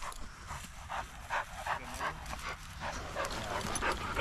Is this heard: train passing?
no